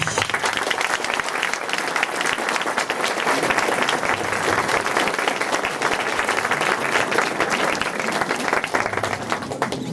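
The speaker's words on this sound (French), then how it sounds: "je voudrais qu'on remercie ces 2 personnes avec des applaudissements nourris" Sustained, loud applause from a large audience at a children's theatre evening, dense steady clapping filling the whole stretch without talk.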